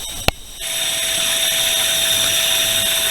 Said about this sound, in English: The noise you're hearing is the air and the water down in my filter pit.